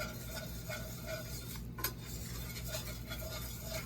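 A whisk sweeps flour around a pan as it browns, a soft, steady metallic scraping and stirring over a constant low kitchen hum, with one brief sharper clink midway.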